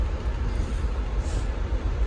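Steady low rumble inside a passenger train car on a long ride, with continuous broadband rail noise and no distinct events, moderately loud throughout.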